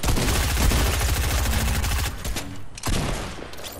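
Rapid bursts of close, loud gunfire from a Fortnite match, dense shots rattling for about two seconds before a few scattered, fading reports; pistol fire is among them.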